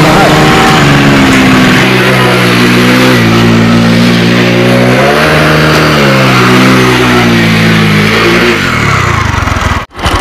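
A racing motorbike's engine revs hard and close for nearly the whole stretch, its pitch climbing and dipping as the throttle changes, then it cuts off abruptly near the end.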